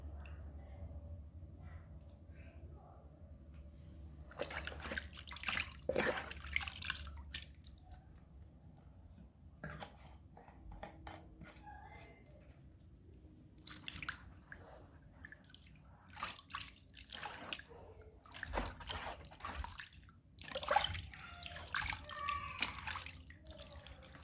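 Quiet splashing and dripping of soapy bubble-bath water in a basin, with irregular sloshes and trickles, close and soft, mostly without talk.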